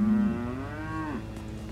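A farm cow lets out one long, close, loud moo that holds steady and then trails off, with quiet farmyard background afterward.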